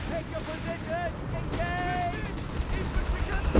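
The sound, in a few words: machine gun fire in video game Company of Heroes 3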